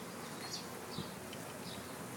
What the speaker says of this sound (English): there was a bee all up in my thing